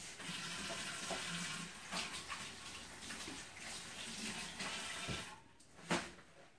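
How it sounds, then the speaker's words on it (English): Tap water runs steadily into a sink while hands are washed in a farm kitchen after handling raw stew beef, a soft continuous splashing with a few louder spatters near the end. "Let me wash my hands real quick."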